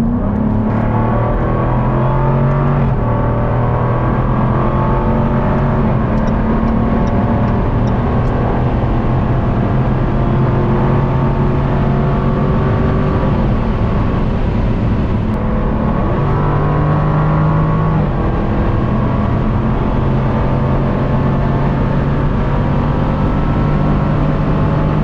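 A supercar driven fast on an open road, its engine droning loud and steady throughout with gear-shift steps in pitch, plus heavy wind and road roar and no talk.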